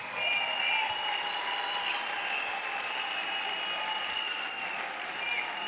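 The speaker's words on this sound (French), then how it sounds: "A clap offering to Jesus." A congregation at an evangelism crusade claps in acclamation to Jesus, a steady, even wash of many hands that stays constant throughout, with a faint tonal hum underneath.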